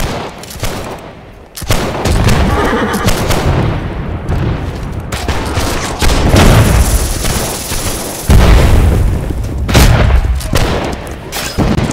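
Musket volleys and cannon fire from the Napoleonic-era battle game Hold Fast, a dense, continuous din of booming shots and crackling gunfire layered over one another at close range and staying loud throughout.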